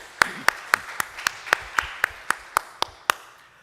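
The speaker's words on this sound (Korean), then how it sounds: "우리 하나님께 감사와 영광의 박수를 돌려드립니다" A congregation at a Sunday afternoon worship service in a Korean church gives a round of applause, heard as a steady run of about a dozen evenly spaced, sharp claps, fairly faint in a roomy space.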